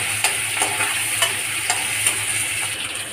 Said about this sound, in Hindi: अब हम डालेंगे इसमें अदरक और लहसुन का ये जो मैंने कूटा था ना, इसको डाल देंगे।